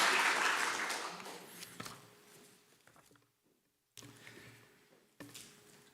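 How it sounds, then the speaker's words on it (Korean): A church congregation at a Sunday worship service applauds the choir. The clapping is loud at first, then thins out and fades within about two seconds, leaving near silence broken by a few faint knocks and shuffles. "우리 한번 일어나서 박수 한번 우리"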